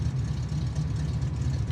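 A 1974 Chevy Camaro engine idles steadily with a deep, even low rumble, close and continuous throughout.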